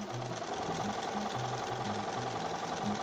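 Sewing machine running steadily up close as it stitches the centre-back seams of a 1950s beach coat's lining and main fabric, a fast even mechanical chatter that keeps going without a break.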